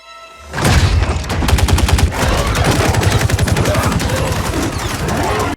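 Sustained automatic gunfire in Mortal Kombat 11, loud and close, forming a rapid even stream of shots that runs nearly unbroken for about five seconds before cutting off.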